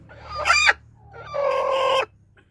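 Two bursts of broody hen vocalization, a short harsh call then a longer drawn-out clucking cry, close by with a quiet gap between.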